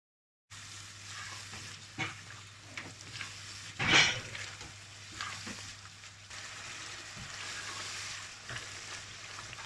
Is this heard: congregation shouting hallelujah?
no